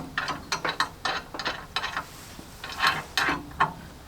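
A ratchet tightens a nut on a Kolpin snow plow mount, giving bursts of sharp, quick clicks in short uneven runs with brief pauses, close and fairly quiet.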